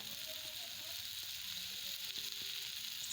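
Fish roe sautéing in a pan with salt, turmeric and chili powder, a steady close sizzle of frying with faint stirring scrapes, heard alone.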